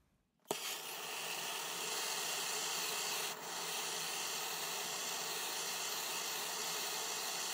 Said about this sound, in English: I file my bezel all the way around, or sand it, sorry, all the way around